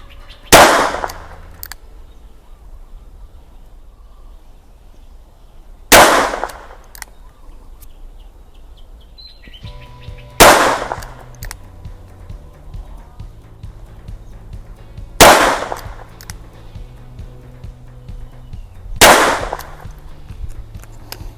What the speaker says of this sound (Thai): ขอยิงแบบซิงเกิลนะครับ จากจุดนี้ก็ประมาณสัก 10 เมตร